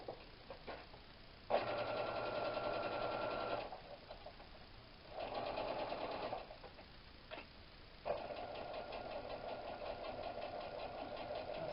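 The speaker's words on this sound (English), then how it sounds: "Slowed the machine down a bit because it went a bit hectic when I first put your foot on it." A slowed-down sewing machine topstitches a classic tote bag, its rapid mechanical whir running in several sustained bursts separated by brief quieter pauses, steady and close.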